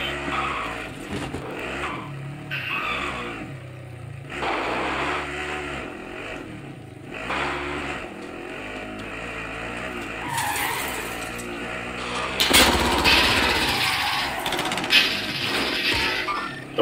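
A vehicle driven in the video game Warzone, its engine droning steadily and tires skidding, swelling louder and harsher toward the end with a sharp burst near the close.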